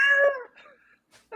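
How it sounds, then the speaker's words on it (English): A cat lets out a clear, drawn-out meow, followed by a couple of short, softer chirps nearby, with no talking over it. "Oh, is that cat in the background?"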